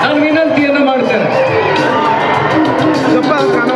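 An audience at a felicitation ceremony on a stage in Vijayapura claps and cheers loudly, a dense, steady roar of applause and crowd shouts that runs through the whole moment, with voices mixed in.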